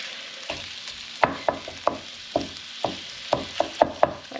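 Sausage fries in a pan under a soft sizzle, punctuated by a string of sharp, irregular clinks and scrapes of a utensil against the pan, close and without speech.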